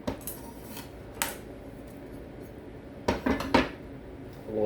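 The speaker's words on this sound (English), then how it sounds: "Noodles on the cleaver, throw it in." Cooked noodles tossed off a cleaver into a pan for Malaysian shrimp mee, a few metallic clanks and clinks of the blade and pan, the loudest cluster near the end, no voices.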